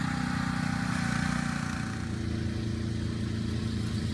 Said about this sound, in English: The greens are cut very tightly with a special mower.